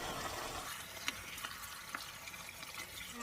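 Chicken meat sizzling in hot oil in a pan, a soft steady frying hiss with a few faint pops and stirring clicks.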